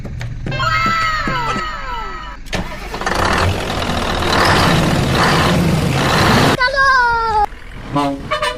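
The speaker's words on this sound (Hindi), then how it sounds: "चलो गाड़ी स्टार्ट कर।" A truck engine starts in a truck video game with a rising cranking roar and loud rumble lasting several seconds, framed by horn-like tones and cartoonish sounds, with voices talking around it.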